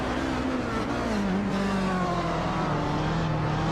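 Racing video game cars at the Sebring hairpin, engines loud and continuous with the pitch falling as they brake into the corner, several cars droning together close by.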